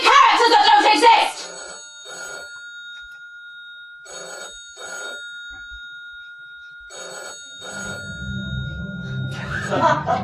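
A telephone bell rings in bursts on a stage, repeated trilling rings separated by pauses, with a voice speaking loudly at the start and a low rumble building toward the end.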